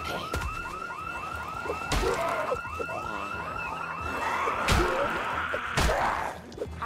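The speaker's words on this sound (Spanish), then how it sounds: "Porque la alarma se apaga sola, ¿no?" A car alarm in the zombie survival game Project Zomboid wails in repeating rising and falling sweeps, fairly loud and continuous, punctuated by a few sharp thumps.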